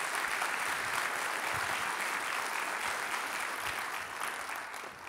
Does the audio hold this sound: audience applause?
yes